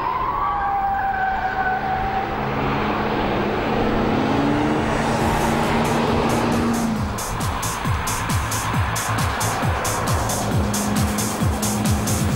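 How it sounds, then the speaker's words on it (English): Corvette super sports car lapping the high-speed test oval at over 200 km/h, its engine a loud steady roar that shifts pitch as it passes, with rhythmic pulsing bursts toward the end. "driving at over 200 kilometers an hour on the high-speed oval of the testing"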